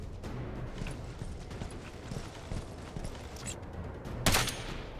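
Gunfire in Ghost Recon Advanced Warfighter 2 crackles over busy battlefield ambience, with a sharp, loud shot standing out near the end.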